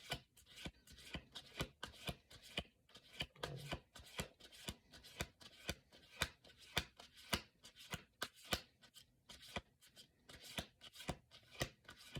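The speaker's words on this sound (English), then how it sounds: "I know when you shuffle the deck, it's to mix the cards" Oracle card deck being shuffled by hand, a rapid run of crisp riffling snaps and rubbing strokes in a steady rhythm, close and fairly quiet, with no talking.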